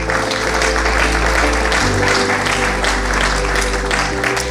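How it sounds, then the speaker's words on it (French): Conference audience applauding a speaker from a transport ministry directorate, steady dense clapping at close range, sustained for several seconds with a constant low hum beneath. "Merci de l'applaudir."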